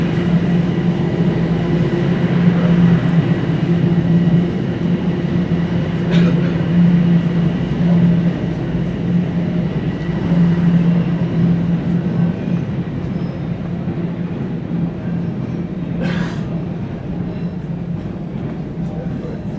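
A Toronto subway train rumbles and hums steadily for a long stretch, heading toward the Davisville rail yard, with a droning tone, rail noise and occasional faint clanks.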